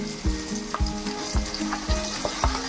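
Ginger garlic paste sizzling in a pan with already-fried onions, tomatoes and green chillies for a fish bharta, a steady close frying hiss broken by regular stirring knocks, no talking.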